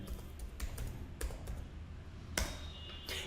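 Keys clack on a computer keyboard as a short command is typed, a handful of sharp, irregular taps close up against a quiet room background.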